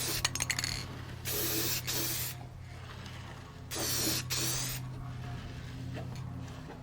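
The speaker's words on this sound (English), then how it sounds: "So I'm just going to use the Rust-Oleum clear gloss, again, an interior finish." Rust-Oleum clear gloss interior finish sprayed from an aerosol can onto a carved solid maple sign: several separate hissing bursts of a few seconds each, close by, with a faint steady hum underneath.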